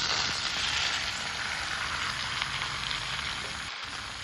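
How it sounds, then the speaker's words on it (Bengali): Chopped ginger, bamboo shoots and jackfruit seeds fry in hot oil while being stirred, a steady close sizzle with soft hissing and crackle that fades slightly toward the end. "দেওয়ার পর আমি ভালোভাবে নেড়ে চেড়ে নেব, যাতে তেলগুলো মশলাগুলো লেগে যায়।"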